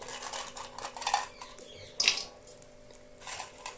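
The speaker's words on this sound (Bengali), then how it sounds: "তো সেই তেলেই আমি বড়িটা ভেজে নিচ্ছি।" Lentil dumplings (bori) fry in a little oil in a wok, a soft sizzle punctuated by a couple of distinct metallic clinks of a utensil against the pan, nearby and fairly quiet.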